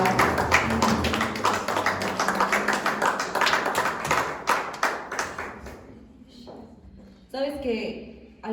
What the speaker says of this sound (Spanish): a darle un aplauso, Señor Jesús